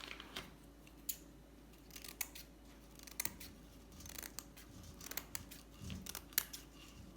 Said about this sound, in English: so I'm going to cut it off